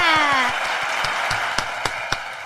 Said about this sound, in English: you know what it is when you push your own applause button